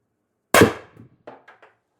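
An air gun fires a steel ball bearing: one sharp, loud crack, followed by a few quicker, fainter metallic clinks as the ball strikes its target.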